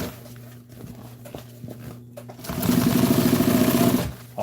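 A sewing machine stitches upholstery for an old military jeep seat. A few soft clicks and handling taps come first, then a loud, fast, rhythmic burst of stitching runs close by for about a second and a half and stops.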